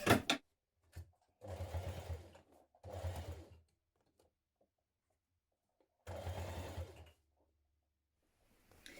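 Sewing machine stitching a thick cross body bag in three slow, deliberate runs of close, low mechanical chugging separated by quiet pauses.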